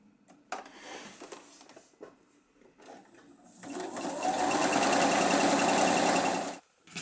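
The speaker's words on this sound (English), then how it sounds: "So we're just going to sew all those together." Quiet handling noises and small clicks come first, then a sewing machine runs in one steady, close burst for a few seconds as it stitches nine-patch quilt blocks together before stopping.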